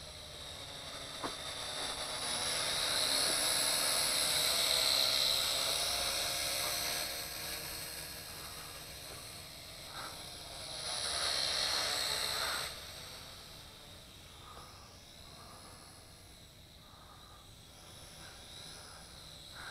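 An L6052 quadcopter drone fitted with Syma X5C propellers flies nearby, a high, buzzing propeller whine that swells and fades as the throttle changes, louder in two stretches before settling lower.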